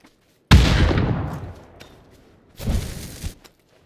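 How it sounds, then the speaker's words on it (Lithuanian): A sharp, loud gunshot-like blast with a long decaying rumble, followed by a second, softer burst of fire, in PUBG with a VSS rifle. "Mane kažkas šaudo."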